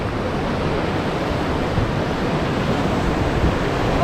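Whitewater rapids on the Gauley River crash and roar in a steady, dense wash of rushing water, loud and close throughout with no voices.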